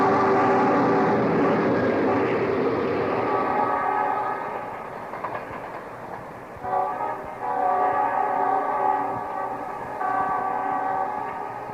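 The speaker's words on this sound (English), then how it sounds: "Known as the Doppler effect, bounce-back sounds of departing trains are at a higher frequency." A train passes and departs with a loud horn blast, its sound dropping and fading over several seconds before a lighter rumble and horn tone return near the end.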